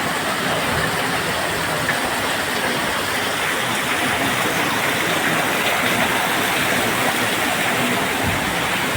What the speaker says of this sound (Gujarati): કંઈ બહુ જ વરસાદ પડી ગયો છે, સાથે સાથે પવન પણ છે